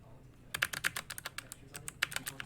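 Rapid typing on a computer keyboard, a quick irregular run of crisp, close key clicks after a short quiet start, with a couple of louder strikes.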